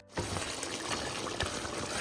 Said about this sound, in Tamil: அழகாக நம்ம தண்ணியை ஊற்றலாம்.